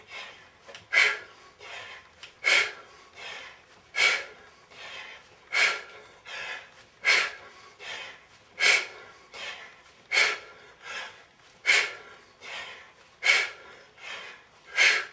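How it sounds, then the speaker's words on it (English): Heavy, rhythmic breathing during kettlebell swings, about ten sharp exhale-inhale bursts roughly every one and a half seconds, close and fairly loud with no talking. "I'm breathing hard."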